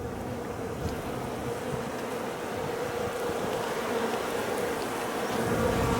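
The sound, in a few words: honey bees buzzing in a beehive during inspection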